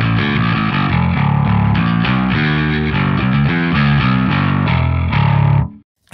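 A distorted electric guitar played through a guitar or bass cabinet rings out in loud, close, chugging chords and riffs, then cuts off abruptly near the end.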